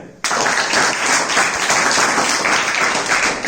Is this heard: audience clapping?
yes